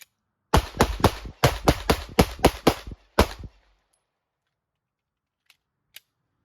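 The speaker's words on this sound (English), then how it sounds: "I just started shooting because it was a lot of fun" About ten handgun shots ring out close and sharp during a concealed carry drill, fired in a quick irregular string with one short pause, followed by silence and a couple of faint distant clicks.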